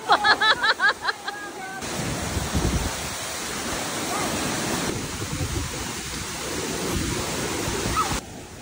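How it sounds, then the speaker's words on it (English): A waterfall at Moalboal in the Philippines roars as a constant, loud wash of falling water close by, preceded by a brief burst of other sounds at the start. "Done hanging out the waterfall here."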